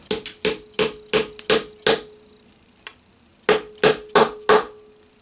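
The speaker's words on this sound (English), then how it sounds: "I'm going to tap these bushings back in." Sharp, muffled dead blow hammer taps, through a rosewood block, drive bushings into a Les Paul guitar in two quick bursts, roughly a dozen blows in a steady rhythm with a short pause between groups, close and distinct.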